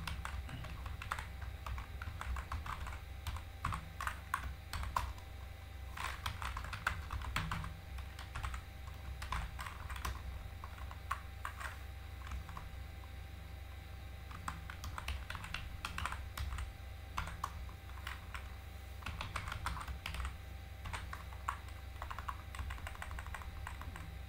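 Fast typing on a computer keyboard while writing a C program, a dense run of close, crisp key clicks in irregular bursts with short pauses, over a faint steady hum.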